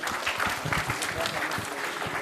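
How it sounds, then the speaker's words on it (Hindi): Audience at a school annual function clapping to welcome students, a steady moderate wash of applause with talk or music mixed in beneath it throughout. "जोरदार तालियों से उनका स्वागत कीजिए"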